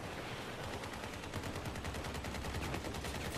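Weapons mounted on combat vehicles in the video game Crossout hammer out fast, regular automatic fire, a dense rattling string of shots that holds a constant loudness from start to finish.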